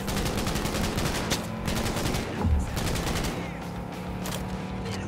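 Rapid automatic gunfire rattles in bursts during a vehicle chase in Cyberpunk 2077, shooting at a car's tires, with dense repeated shots over engine and game noise.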